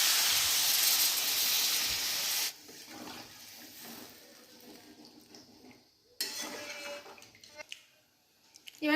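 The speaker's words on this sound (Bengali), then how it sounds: "এবারে জল দিয়ে দিচ্ছি।" Water is poured into a hot pan of spiced potato and egg curry, a loud sizzling hiss and splash that cuts off sharply, followed by quieter bubbling, a clink of utensils and a second burst of sizzle.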